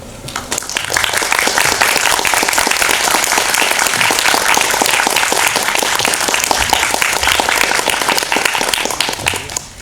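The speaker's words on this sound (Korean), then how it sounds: "큰 박수로 환영해 주시기 바랍니다." A large audience at a film festival screening talk applauds loudly and steadily, the clapping building quickly and holding strong throughout.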